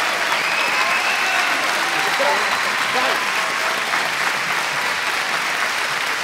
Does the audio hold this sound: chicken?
no